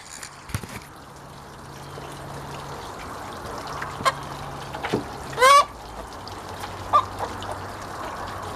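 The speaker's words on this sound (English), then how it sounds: "we're gonna have to go let the chickens out" Chickens in a backyard coop make sparse, scattered clucks and a brief louder squawk amid quiet outdoor ambience, with faint trickling water in the background.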